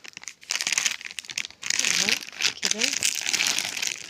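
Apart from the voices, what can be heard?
crinkling a plastic bag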